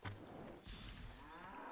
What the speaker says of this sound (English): Why did you kill the cow? That's just cold.